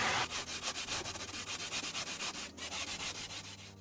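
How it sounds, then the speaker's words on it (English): Sandpaper rubbed by hand over a life-sized Halloween tombstone prop, rounding over an edge, giving a steady run of rhythmic rasping strokes, close and fairly loud, with no talking. "So for that, I'm just going to use some sandpaper loosely."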